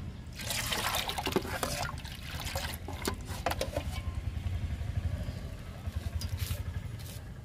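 Liquid tea fertilizer made from masala, Assam and Darjeeling tea is poured onto rose plants, a soft continuous trickle and splash of liquid with a few brief clicks and knocks, close by and fairly quiet.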